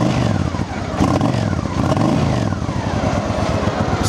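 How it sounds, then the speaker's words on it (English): A Honda Shadow Ace VT750 motorcycle engine catching and settling into a low, steady idle rumble, close and continuous with a slight rev near the start. "Let's go ahead and start it up."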